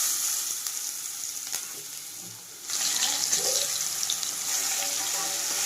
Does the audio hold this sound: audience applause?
no